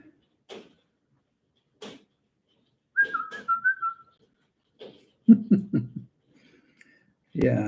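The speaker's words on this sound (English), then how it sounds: "I'm sorry about hearing my whistle." A person whistles a short, faint tune near the microphone, broken up by scattered soft knocks and brief vocal sounds in a quiet room.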